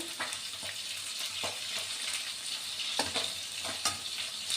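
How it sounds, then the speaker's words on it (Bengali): Garlic frying in a pan with turmeric while being stirred, a soft continuous sizzle broken by repeated scraping strokes of the spoon at a steady rhythm. "এবার নাড়াচাড়া করব"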